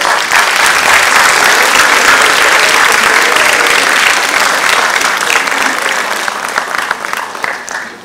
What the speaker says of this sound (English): I request everyone to please give a huge round of applause.